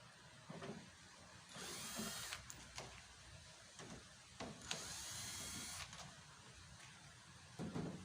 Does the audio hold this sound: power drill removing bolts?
yes